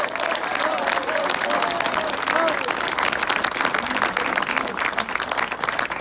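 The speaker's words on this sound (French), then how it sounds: "et on peut l'applaudir, Alain Ramadier." A crowd at a political campaign launch in Aulnay-sous-Bois applauds a candidate, sustained clapping close and loud for several seconds, with voices and some cheering mixed through it.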